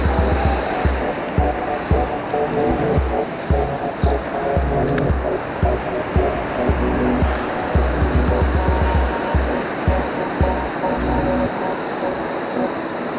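Waves on a storm-hit beach wash in and out steadily, a broad continuous roar of surf with churning water close by, loud and unbroken throughout.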